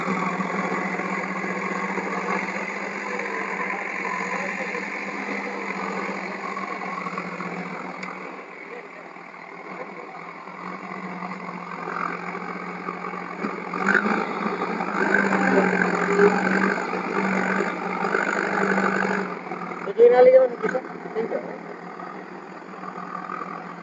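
A tractor hauling a manure spreader cart on a farm runs steadily, its engine droning throughout and swelling louder toward the end, with people talking over it.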